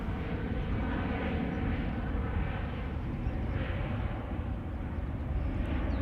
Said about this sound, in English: EasyJet on its way to Liverpool.